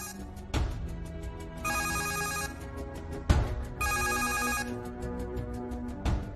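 A telephone rings in repeated electronic bursts, two ring cycles with sharp knocks between them, fairly close and with no talking.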